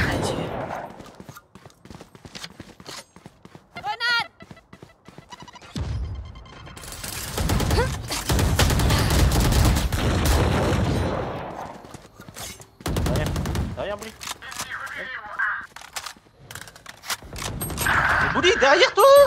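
Gunfire in a Valorant match on PC, arriving as scattered shots and a long dense burst of rifle fire at middle distance, with French-speaking players talking over the shooting.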